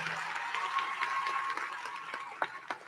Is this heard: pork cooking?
no